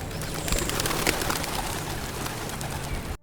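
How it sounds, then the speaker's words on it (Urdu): Pigeons coo steadily amid a dense chorus of singing birds outdoors in nature, a continuous close and fairly loud wash of calls that cuts off abruptly at the end. "یہ پرندوں کی آوازیں، یہ نیچر کی موسیقی روز ہمارے کانوں میں پڑتی ہے"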